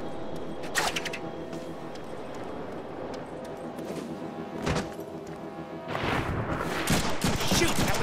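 Scattered gunshots in the Deadpool action game arrive as sharp isolated cracks and then a denser flurry toward the end, set against a steady in-game background hum with talk at times.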